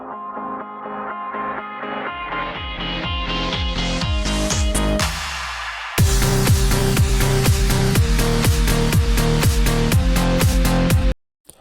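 Two beat-matched songs blend with a crossfade: a steady electronic beat builds, then a loud driving rhythm with distorted tones takes over midway, looping evenly before cutting off abruptly near the end.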